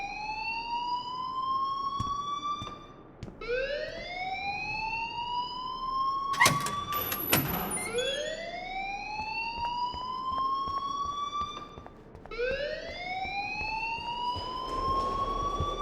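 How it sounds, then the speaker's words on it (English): A loud electronic school alarm in the video game Life is Strange wails in repeated rising sweeps, each lasting about three seconds and pausing briefly, with a sharp clattering burst partway through. "please turn off that alarm since that's your job."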